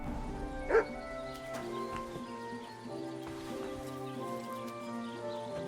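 A single short dog bark pops out once near the start of Kingdom Come: Deliverance II gameplay, over a steady game soundtrack with hoof-like clopping and ambient noise.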